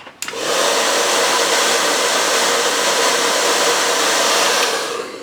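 A heat gun blowing hot air while heating vinyl wrap on a Dodge center cap, a loud, steady blowing roar that switches on abruptly and runs continuously before tapering slightly at the end.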